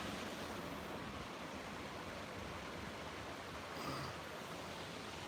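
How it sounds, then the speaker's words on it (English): Steady rushing, splashing water in lock 17 of the Erie Canal fills the clip, broadband and constant like churning flow, with no voices. "You can start to hear some water splashing in there at the back."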